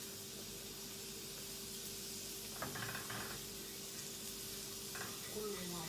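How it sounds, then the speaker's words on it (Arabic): Meat browning in butter with spices and salt in a hot pan gives a steady, fairly loud broadband sizzle that holds evenly throughout, with a couple of brief clicks of a utensil and no talking. "انا هنا وانا بحمر التريبيانكو بتاعي"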